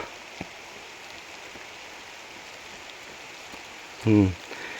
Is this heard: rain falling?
yes